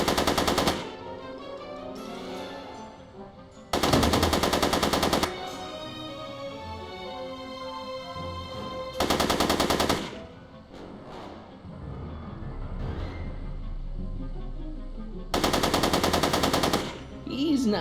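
Three bursts of rapid automatic gunfire from the Back to the Future video game, episode 2, each lasting one to two seconds, separated by quieter stretches of game sound.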